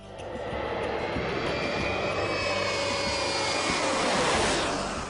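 A steady, loud engine roar and rushing drone fills the cabin of a Space Shuttle training aircraft in flight, heard from the passenger section behind the pilots, with no talk over it.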